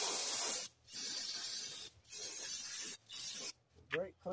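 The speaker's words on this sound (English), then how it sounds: "We're going to spray down our caliper bracket," An aerosol can of brake cleaner sprays onto a Ram 1500 caliper bracket in four bursts, a loud close hiss each time, separated by short pauses, the last burst brief.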